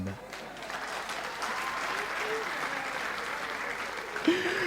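Audience applause at a comedy show fills the room, a steady wash of many hands clapping from start to end, with a brief voice rising near the end.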